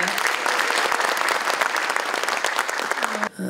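An audience at a Korean legislative forum gives warm, sustained applause, dense clapping filling the room nearly the whole time before it breaks off abruptly at the end.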